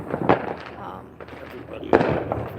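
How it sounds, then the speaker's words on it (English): Casino fireworks burst in the night over Las Vegas on the Fourth of July, two sharp booms about a second and a half apart with crackling between, heard from a distance amid faint background voices. "At 9 p.m. the casino fireworks go off"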